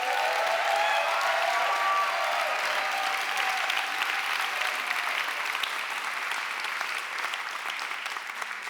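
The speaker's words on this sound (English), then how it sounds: "Please give them a round of applause," Sustained applause from a seminar audience, fairly loud and even from start to finish and slowly easing toward the end, with no voices over it.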